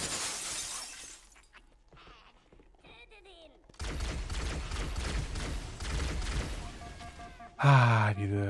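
Gunfire in the video game Halo: Combat Evolved Anniversary: a burst of rapid shots and shattering shield impacts, loud and busy, ending in a sharp louder hit.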